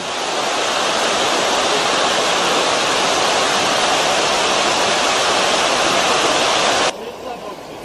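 Water pouring over a river weir near a brewery water intake, a loud steady broadband roar that stays close and constant, dropping slightly at the end.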